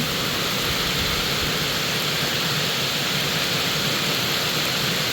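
Steady rain pours down around rice paddies in the Thai countryside, a dense, unbroken hiss lasting throughout with no talk.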